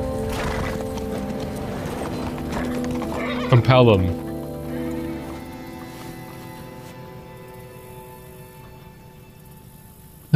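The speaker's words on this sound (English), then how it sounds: "she's looking at the horses" Horses in the film Logan give one loud, clear whinny with a rising and falling pitch, heard over ongoing talk and a low film soundtrack.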